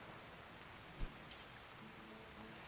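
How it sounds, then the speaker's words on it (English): Rain falling in RimWorld, a steady faint wash of drops with one brief low thud partway through, no voices. "Yeah, the rain is causing problems."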